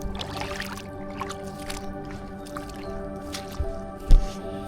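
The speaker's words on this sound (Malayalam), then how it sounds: "കുറച്ച് നേരം ഈ പാടത്തിലെ വെള്ളത്തിൽ കൂടെ നടന്നു നോക്കണം" Footsteps wading through shallow water in a flooded paddy field in Alappuzha, Kerala, giving soft squelching splashes and drips, with one louder slosh near the end, over quiet outdoor ambience.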